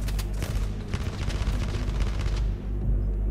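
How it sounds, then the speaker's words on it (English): Loud, dense gunfire in a staged action scene, with rapid overlapping shots and booming bursts over a steady rumble that thin out toward the end. "Stop shooting!"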